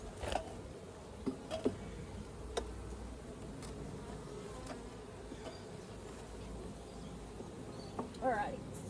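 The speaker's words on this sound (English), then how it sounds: "now there's plenty of bees here" Honeybees hum steadily around an open hive, and a few louder buzzes pass close by. A person speaks quietly now and then over the low drone.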